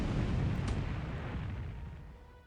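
Battleship shell hits in a World War II Pacific naval strategy game, a deep rumbling explosion that rolls out and slowly decays over a couple of seconds, loud at first and fading.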